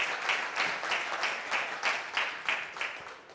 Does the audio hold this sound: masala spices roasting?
no